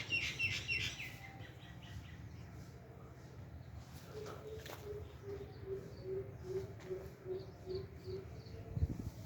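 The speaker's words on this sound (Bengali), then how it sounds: "পাখির কলকাগলি শব্দ কত সুন্দর" Birds chirp and tweet outdoors in a rural village, bright repeated calls near the start and a steady run of evenly spaced notes later, over low wind and background rumble.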